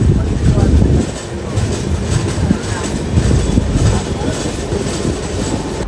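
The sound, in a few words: train rolling into Tenali station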